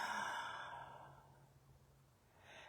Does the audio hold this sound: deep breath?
yes